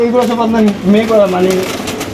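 Female pigeons coo close by in soft, throaty, warbling calls that roll on continuously for a couple of seconds.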